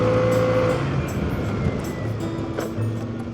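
A car with a Stage 6 brake caliper brakes hard during a brake test: a loud, steady engine and road roar near the mic that eases slightly, with faint tonal whines toward the end.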